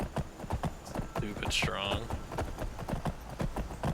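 Horse hooves clip-clop in the modded Skyrim video game, a steady run of close hoof beats under a voice talking, with a brief whooshing game effect partway through.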